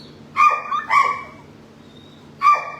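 A sick, malnourished dog with mange, recovering from parvo, gives three short, thin yelping barks close by, two in quick succession then one more after a pause, with no talking.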